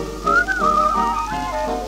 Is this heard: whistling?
yes